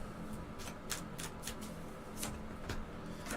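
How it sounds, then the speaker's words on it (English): Tarot cards being shuffled by hand, a steady papery riffle with sharper snapping bursts at intervals, close and quiet over a faint background hum. "If I can actually shuffle."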